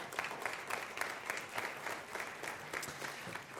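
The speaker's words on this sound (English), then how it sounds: "Please welcome them up on stage with a big round of applause" An audience at a panel discussion claps steadily to welcome the panelists onto the stage, a soft, even wash of applause that holds throughout with no voices over it.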